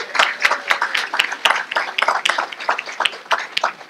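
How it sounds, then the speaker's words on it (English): Clapping at a dedication ceremony for the Louis Wilson Sr. facilities administration building, moderately loud and unevenly paced, with a few distinct claps standing out. "everybody a round of applause for today."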